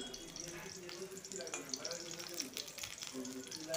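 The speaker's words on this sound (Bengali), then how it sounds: "এবারে উল্টিয়ে দিয়ে এই পিঠটা আমি ভেজে নেব" Stuffed bitter gourds, turned over to cook the other side, fry gently on low heat in a pan with a soft, continuous sizzle and light crackling, fairly quiet.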